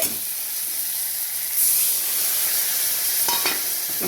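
Water poured into a hot pan of fish curry with chili and poppy seed paste sets off a loud steamy hiss and sizzle that swells partway through and stays close and steady, with no voices.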